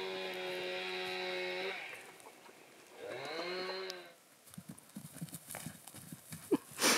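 Two drawn-out whinnies from miniature horses in the Norwegian mountains in winter, followed by a series of soft hoof clops on hard ground nearby.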